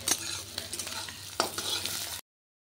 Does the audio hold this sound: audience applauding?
no